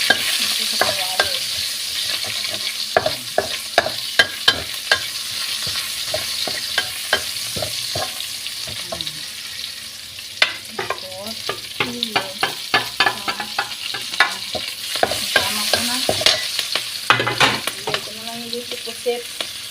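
Squid frying in a wok-style pan with whole peppercorns, crackling and sizzling continuously while a spatula clatters and scrapes in repeated quick strokes throughout.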